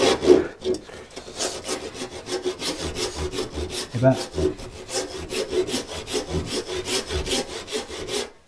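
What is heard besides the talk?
hand saw cutting wood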